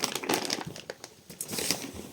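A milk chocolate bar's wrapper is torn open and crinkled by hand, a quick run of close, crisp rustles and crackles with brief pauses between them.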